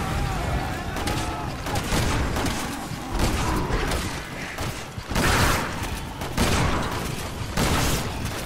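Explosions and gunfire crash repeatedly in the shooter game Resident Evil 6, including a grenade blast, a dense loud barrage of booms and bursts with shouting voices mixed in.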